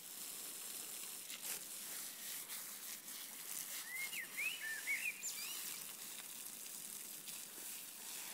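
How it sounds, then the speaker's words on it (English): Blackbird singing outdoors in a garden, short fluting phrases sounding a few times mid-clip, faint and distant over a steady hiss of water from a hose. "Just stood here watering, listening to that blackbird."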